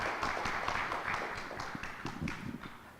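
An audience at a corporate annual meet claps in a dense, steady round of applause that lasts throughout, with scattered sharper individual claps standing out from the crowd.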